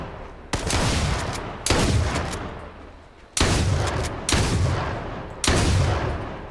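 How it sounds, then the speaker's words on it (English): Gunshots in the H1Z1 battle royale game: five loud, sharp reports at uneven intervals, each with a long decaying tail, with no talking over them. "Let me start popping off some shots."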